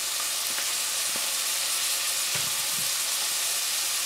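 Chopped spinach and peas sautéing in a pan: a steady, close sizzle and hiss throughout, with a few soft stirring clinks and bumps, no talking.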